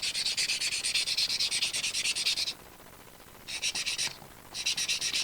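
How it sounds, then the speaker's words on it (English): Rapid rhythmic scraping of a nail file smoothing chipboard in three bursts, long, short and short, with quiet pauses between, close and fairly soft. "the nail file works just as well. Just to sort of smooth it out."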